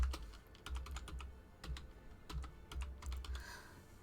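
Typing on a computer keyboard, a quick irregular run of close, crisp key clicks in short bursts with brief pauses, no talking.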